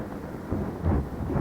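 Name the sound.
thunder rumbling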